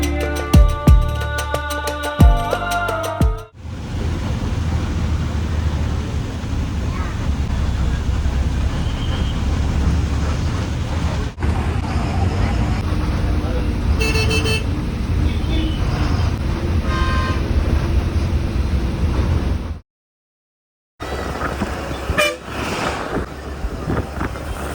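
Steady engine drone and road rumble inside a moving bus travelling from Velankanni to Thiruvarur, loud and continuous, with a brief dropout near the end.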